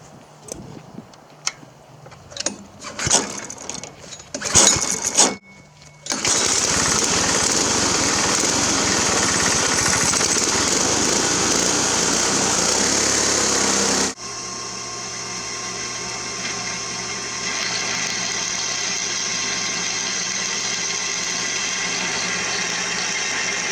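A small gasoline engine on a homemade amphibious go-cart sputters through a few pulls before catching, then runs at a steady high-pitched buzz, dropping to a lower idle drone partway through.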